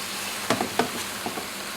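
Water hitting a hot pan of frying mushrooms to deglaze, giving a few short sizzling bursts and stirring scrapes over a low steady hiss, close and fairly quiet.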